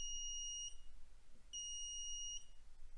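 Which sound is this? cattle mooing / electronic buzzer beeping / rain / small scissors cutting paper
electronic buzzer beeping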